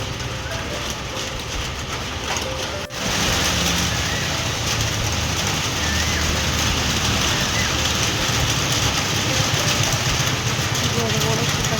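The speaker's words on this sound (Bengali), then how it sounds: "অবস্থা বেশ ভালোই জোরে বৃষ্টি হচ্ছে, আর একটু বৃষ্টি হোক।" Heavy rain with big drops pouring down in a steady, dense, loud wash of noise that continues without a break, with a brief dip in the noise partway through.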